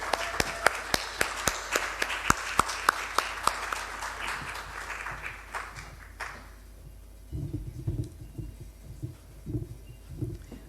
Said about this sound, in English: Please join me in welcoming Andile Madonsela under your warm applause